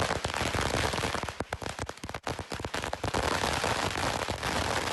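Firecrackers set off at a political victory celebration in Mumbai burst in a dense, rapid string of sharp cracks and pops, loud and close, with brief gaps between volleys.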